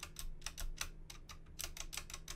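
Quiet, rapid clicking and rattling of mechanical keyboard keys, with tinny stabilizer rattle as the key is lightly brushed, a dozen light taps in an uneven rhythm, close and faint.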